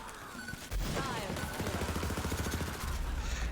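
Rapid automatic bursts of electric Kilovolt gunfire ring out in Borderlands 3, with a dense crackling stream of shots and game sound effects layered over a low rumble.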